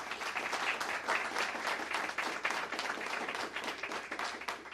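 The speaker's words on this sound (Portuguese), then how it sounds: "Uma salva de palmas para ela." Audience applause for a legal speaker being welcomed on stage, a steady wash of many hands clapping that stays loud and dense throughout with no voices over it.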